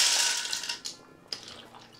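Dry pasta shells tipped into a pot of chicken broth with carrots, a bright rattling clatter that fades over the first second, followed by two sharper clinks and softer settling sounds.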